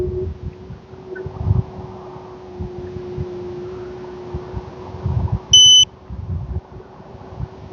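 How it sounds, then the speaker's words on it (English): A scooter's cruise control gives a short, sharp electronic beep, loud and clear over the steady hum and wind of the ride on a fall outing. "That beeping gets annoying, I know. It's a freaking cruise control"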